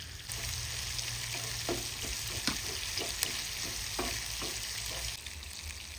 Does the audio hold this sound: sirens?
no